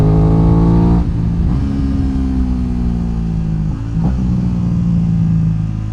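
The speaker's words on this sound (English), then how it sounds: "the quick shift down, oh boy, it is so good. Just take a quick listen to this." Aprilia RS660 motorcycle engine dropping through gears on a quick-shift downshift, a loud, close, steady drone that falls in pitch with abrupt blips at each shift.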